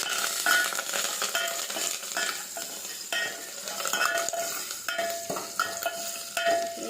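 Crushed garlic and curry leaves sizzle in hot oil as a tempering for drumstick dal, a steady close frying hiss broken by the scrape and clink of a spoon stirring in the pan.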